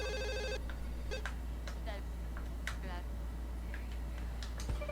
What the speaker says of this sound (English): let's move this phone because it just woke up Miss Delilah here